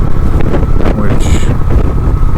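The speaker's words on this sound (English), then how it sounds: "It's a little windy" Wind roaring over the microphone during a Honda Shadow 750 ACE motorcycle ride, a loud, constant low rumble and buffeting, with a voice speaking faintly underneath.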